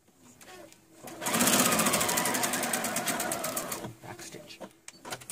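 A sewing machine stitches a seam on a happi coat in a rapid, close run of needle strokes lasting about three seconds, with light handling sounds before and after.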